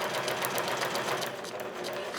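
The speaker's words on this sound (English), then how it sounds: "So if you've never used the sewing machine before, you can just try and go slow as possible." A sewing machine stitches along a drawn line on paper, running slowly with a steady, fast mechanical rattle that stays close and continuous for about two seconds.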